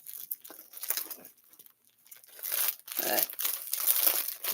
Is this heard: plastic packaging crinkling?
yes